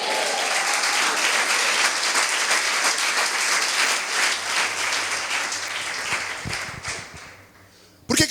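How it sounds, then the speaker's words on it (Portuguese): Church congregation clapping loudly and continuously during a sermon, dense crowd applause that fades toward the end as a voice begins over it. "aplauda Ele bem forte"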